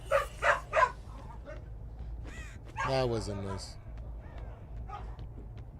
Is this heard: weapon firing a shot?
no